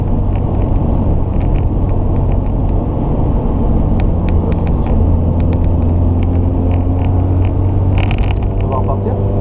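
Classic racing cars roar loudly and continuously around the Magny-Cours circuit, a dense, sustained engine rumble with shifting pitch as cars pass close by.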